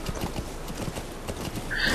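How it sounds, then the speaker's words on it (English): Horse hooves gallop in a steady rapid rhythm in the Metal Gear Solid 5: The Phantom Pain video game, with a brief whinny-like sound near the end, moderately loud and without speech. "Shift to speed up horse."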